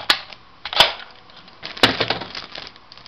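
Slide of a spring-powered airsoft Uzi (Mac 10 style) being cocked, giving a few sharp plastic clacks and snaps spaced out over a few seconds, close and fairly loud with no talking.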